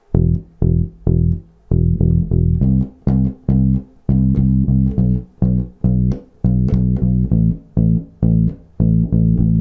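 Bass guitar playing a walking bass groove, loud and close, with evenly spaced plucked notes in a steady beat, each note separated by short gaps, alone without talk.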